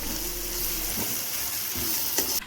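Turmeric powder sautés in hot oil in a pan for Goan-style brinjal pickle, giving a steady close sizzle and crackle with a couple of soft stirring scrapes.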